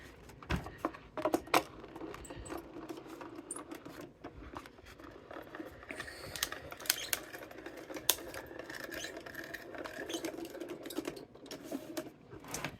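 A manual die-cutting machine runs an APG die inside an embossing folder to cut a sleigh shape, making close, busy clicking and rattling that continues for about thirteen seconds.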